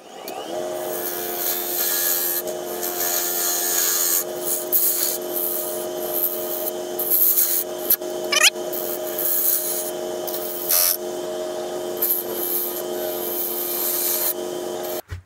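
Sandpaper rubs a carved yew vase spinning on a wood lathe, a steady close rasping hiss under the lathe's constant hum, with brief scrapes and touches throughout and no voices.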